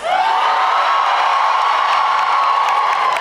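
A large convention crowd at a K-Pop Demon Hunters fan panel at Megacon 2026 cheers and whoops loudly and continuously, a dense wall of shrieking voices filling the room for the whole stretch.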